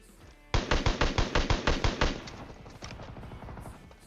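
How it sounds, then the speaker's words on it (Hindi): A rapid burst of automatic gunfire in a shooting video game, about nine loud evenly spaced shots, stops abruptly and leaves a faint fading tail. "मेरे पे एक ऐसी गन है जिसमें फायर दबाने पे गोलियां लगातार निकलती हैं"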